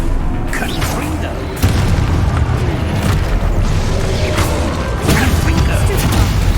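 Confringo blasting spells going off in Hogwarts Legacy, a dense run of loud booming blasts and crashes over constant rumbling game noise, with a sharp surge partway through and spell voices shouting over the action.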